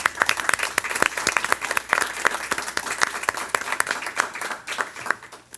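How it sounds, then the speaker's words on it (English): A school board meeting audience gives a steady round of applause, many hands clapping densely and evenly for several seconds with no voices over it. "Would you please join me in giving Mrs. Stivender a round of applause?"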